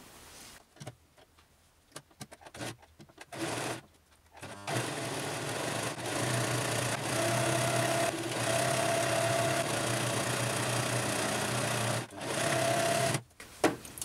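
A sewing machine stitches a seam along fabric for a women's shirt, running in a loud, steady whir for about eight seconds after some short starts and stops, close by with no talk over it.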